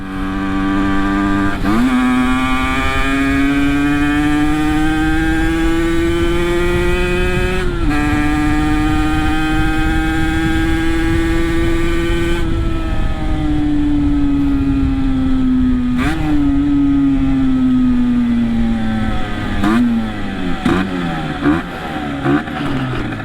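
An Aprilia RS50 motorcycle engine screams at speed with a high, buzzing two-stroke whine, rising steadily through each gear, briefly dipping at every shift, then winding back up, close and continuous throughout.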